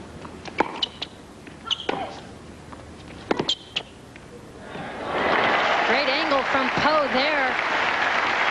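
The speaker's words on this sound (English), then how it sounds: "Seles had to applaud that one." Sharp ball strikes and footfalls at a 1995 women's tennis match in Toronto give way to a steady burst of crowd applause, with a commentator's voice heard over it.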